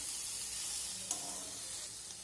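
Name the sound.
stirring fried ivy gourd with white sesame seeds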